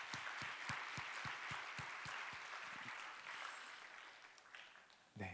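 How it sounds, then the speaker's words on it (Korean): A church congregation at a college-group service applauds together, brisk many-handed clapping that gradually fades out, followed by a brief murmur at the end. "우리 서로를 축복하며 다 같이 한번 박수하도록 할까요?"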